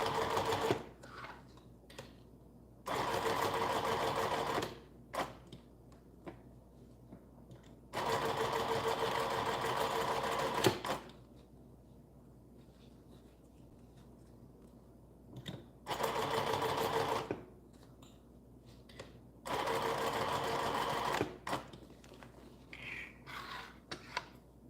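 A sewing machine runs a zigzag stitch along elastic in several sustained bursts of steady mechanical whirring, separated by quiet pauses, with no talking.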